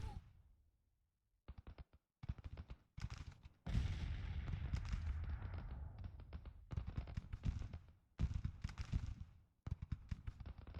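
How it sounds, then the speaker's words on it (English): Civil War artillery batteries in Grand Tactician fire counter-battery salvos as a string of loud, rumbling cannon booms, some isolated and some merging into longer rolling barrages, separated by short silent gaps. "I'm going to set them to counter battery fire"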